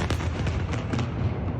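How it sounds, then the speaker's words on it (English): Series of deep, rumbling explosion blasts at night in Gaza, several heavy booms close together over a low continuous roar, with no voices. "Explosions ripped through Gaza in the dead of night"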